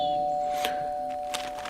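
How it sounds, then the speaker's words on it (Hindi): A faint two-tone electronic doorbell chime sounds twice, softly, over a steady background hum, with no talking. "तभी दरवाजे की डोरबेल बजी।"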